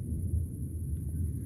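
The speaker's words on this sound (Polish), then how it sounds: "Burza w nocy, więc jest najlepszy wtedy efekt." Thunder from a night thunderstorm over a village gives a low, continuous rumble, moderately loud and distant, with no voices.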